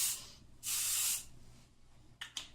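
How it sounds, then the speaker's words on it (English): Aerosol hairspray sprayed onto hair, two hissing bursts, a short one then a longer steady one, followed by a couple of brief puffs near the end, close and fairly quiet. "For my hairspray, I'm using this."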